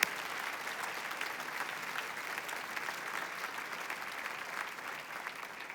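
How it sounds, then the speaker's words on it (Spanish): A church congregation applauds in sustained, dense clapping that fills the room evenly for several seconds, heard at a moderate distance with no speech over it. "Aplaudimos al Señor."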